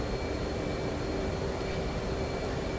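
F/A-18C Hornet jet taking off in the DCS flight simulator, a steady, loud roar of jet engine noise with a faint tonal whine, continuous and unchanging throughout, with no talk.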